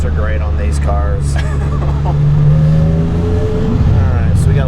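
A rebuilt Porsche 987 with a 4.1-litre turbo engine drones loudly and steadily on the road from inside the cabin, swelling slightly as it pulls, with a person talking over it.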